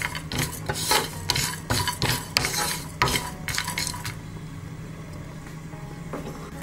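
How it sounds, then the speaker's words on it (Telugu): Coconut, coriander seeds, sesame and peanuts dry roasting in a pan over a low flame, with a spoon scraping and stirring in quick, rhythmic strokes that grow sparser and quieter toward the end. "దానిలో ఈ మసాలాకి గ్రేవీకి పెట్టుకున్న కొబ్బరి, ధనియాలు, నువ్వులు, పల్లీలు కూడా వేసుకుని లో ఫ్లేమ్లో వేయించండి."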